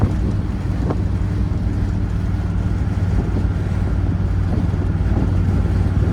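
A 1965 Buick Wildcat with a 425 dual quad engine cruises down the road, giving a steady low engine drone mixed with wind and road rumble, continuous and unchanging throughout.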